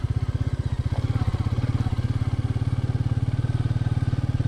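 A Royal Enfield Meteor 350 cruiser rides off-road, its single-cylinder engine thumping in a steady, fast, deep pulse that stays close and constant throughout.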